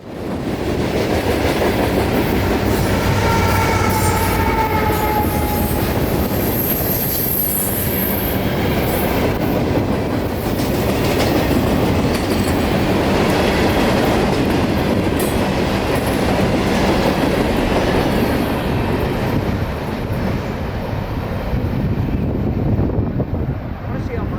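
A freight train rolls by at night in Central Florida, with a GE Tier 4 GEVO locomotive working as distributed power mid-train. A loud, steady rumble of wheels and rail noise lasts the whole time, close to the listener.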